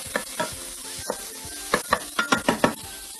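Finely chopped onion sautés in hot oil, giving a steady sizzle punctuated by a quick run of sharp scraping stirs from a spoon against the pan, close and loud with no talking.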